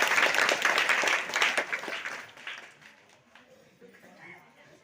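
A crowd at a religious gathering clapping together in a burst of applause that is loud at first, then thins and fades out over a few seconds.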